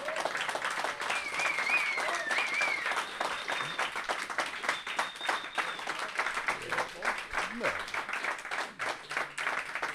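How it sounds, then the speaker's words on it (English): Audience applause for the winning pilots of the Gordon Bennett 2018 gas balloon race in Poland, sustained clapping from a crowd, fairly faint and distant, with voices and cheers mixed in. "Give a big round of applause"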